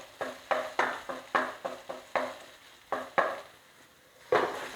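Tomato and onion sautéing in a pan for restaurant-style palak paneer, with a series of sharp spatula scrapes and stirs over a soft sizzle, close and moderately loud, no voices.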